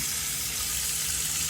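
Pumped water runs steadily from a tap in an Autosleeper Executive motorhome, a close, continuous rushing hiss with no break and no voices.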